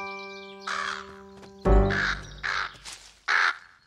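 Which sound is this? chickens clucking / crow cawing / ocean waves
crow cawing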